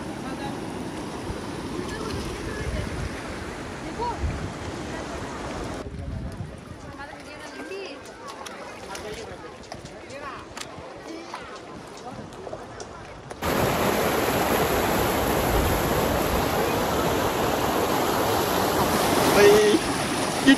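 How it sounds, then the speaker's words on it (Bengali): Fast-flowing current of the Dawki River in Meghalaya, a continuous rushing wash of water, quieter in the middle stretch and then louder and fuller toward the end, with people talking over it. "স্রোত দেখো স্রোত"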